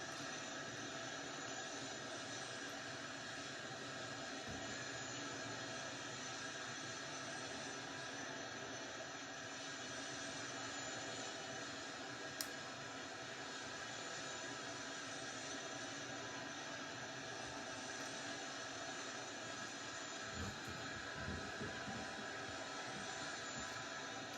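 An aircraft takes off in the Microsoft Flight Simulator 2024 video game, its engine a quiet, steady drone that holds unbroken for over twenty seconds without any talking.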